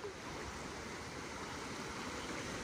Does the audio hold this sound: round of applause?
no